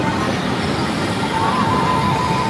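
Roller coaster trains at Blackpool Pleasure Beach rumble along the track at a distance, a continuous roar with a faint squealing whine building toward the end and no talk.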